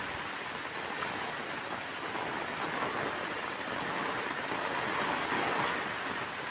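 Steady heavy typhoon rain and strong wind hiss continuously, a dense broadband wash with gusting texture, loud and close throughout with no voices.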